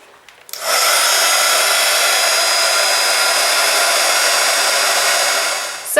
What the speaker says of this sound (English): I'm going to take my heat gun so I can heat set the embossing powder